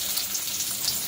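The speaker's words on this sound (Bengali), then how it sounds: "পেঁয়াজ লঙ্কাগুলো কুচিয়ে নিয়েছি, এই দেখো দিয়ে দিলাম" Chopped onion and green chilli frying in hot oil in a pan, a dense, steady close sizzle with no break.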